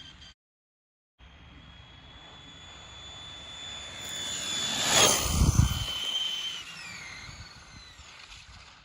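A vintage Losi LXT RC truck fitted with a brushless motor makes a speed run, its high whine rising as it approaches, swelling loud and close as it passes, then fading off with a falling pitch; no talk.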